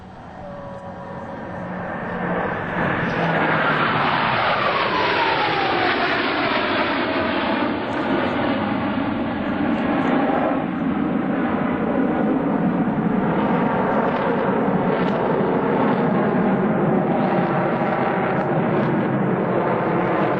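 US Navy Blue Angels jets flying past in Delta formation at the 2003 Dayton airshow, a loud sustained roar with a sweeping downward pitch shift as the formation passes close overhead and continues rumbling.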